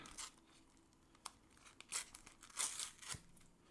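Quiet crinkling and a few short tearing rips of a thin Panini sticker packet being torn open, close by, coming in small irregular bursts.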